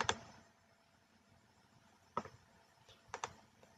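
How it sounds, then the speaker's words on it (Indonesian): Typing a file name on a computer keyboard, a few quiet, sparse key clicks in short bursts with gaps between them, close and alone in a quiet room. "dan mengetik nama dari file yang akan kita buat berisi band-band ini"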